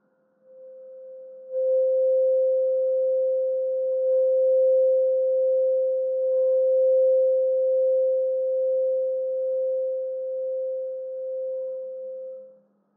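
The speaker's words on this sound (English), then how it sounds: "Slightly press on the tube and start to slowly move your hand forward and backward." Svaritanum crystal harp tube tuned to C, sounded by rubbing: a single pure, steady sustained tone swelling in after a soft start and holding evenly for about eleven seconds before stopping, alone with no talk.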